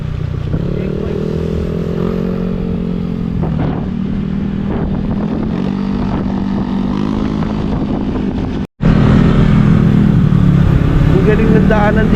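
A motorcycle rides along a scenic road toward a river near Matnog, its steady engine drone mixed with heavy wind buffeting the microphone, continuous and close throughout with a brief dropout near the end.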